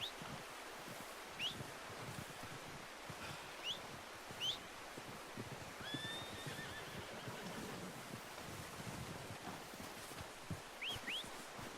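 A horse in Red Dead Redemption 2 gives several short, faint whinnies over steady wind and rustling outdoors, with occasional hoof sounds.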